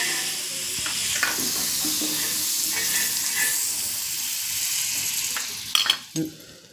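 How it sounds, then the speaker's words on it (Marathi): Butter sizzles on a hot tawa griddle before a cheese paratha goes on, a steady close hiss throughout with a couple of brief clinks near the end. "आता ह्याच्यावर बटर मी टाकत आहे"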